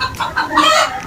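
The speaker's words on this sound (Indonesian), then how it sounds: "ada ayam lagi kawin" Chickens cluck while mating, loud and close, in a brief burst of agitated squawking clucks.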